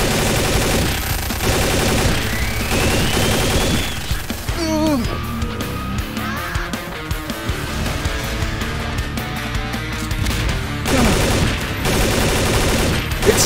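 Rapid gunfire from the game Half-Life 2, a very big gun fired in bursts amid crashes and loud in-game music and effects, with excited voices shouting over the din.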